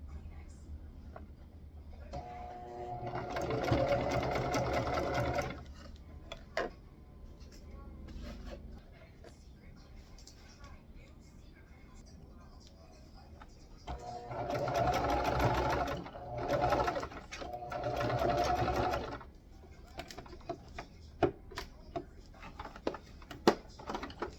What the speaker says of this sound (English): Now I will just start pinning the other side and get it sewn.